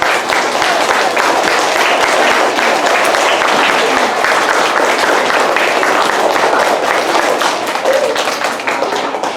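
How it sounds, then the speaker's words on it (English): A roomful of third-grade schoolchildren claps loudly and continuously, a dense close burst of applause that tapers slightly at the end. "So let's give them a round of applause."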